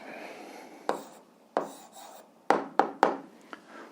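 Someone writes out the answer to an algebra exercise, producing a handful of short, scratchy strokes: a few spaced apart, then a quick cluster of three, close by with no talking.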